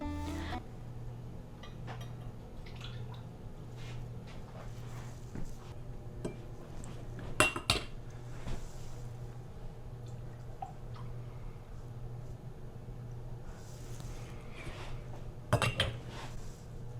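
Plantain salve is spooned into small jars and the lids are closed, giving sparse clinks and taps of glass and metal over a steady low hum, with two sharper louder knocks standing out.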